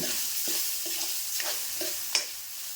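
A paste of ground garlic, cumin, bird's eye chilli and coconut sizzles and fries in a pan, a steady hiss broken by several soft scraping stirs of a spoon, with no talking.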